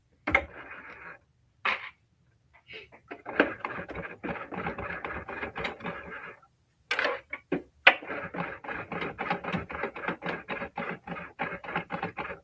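A Singer Heavy Duty sewing machine back-stitching while turned slowly by its hand wheel gives rapid, close mechanical stitching chatter in bursts with brief pauses between runs, loud and with no voice.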